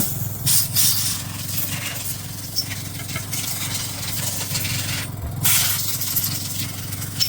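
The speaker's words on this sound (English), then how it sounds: "The good thing with brake cleaner is it's fast evaporating" Brake cleaner sprayed onto a small JLO two-stroke engine, with bursts of aerosol hiss over a steady low engine-like drone, loud and close, in two main sprays with a pause between.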